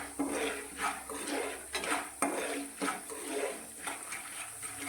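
Popcorn kernels with salt and turmeric stirred in a pan at home, giving repeated scraping and rattling strokes with a steady rhythm, close and moderately loud, no voices.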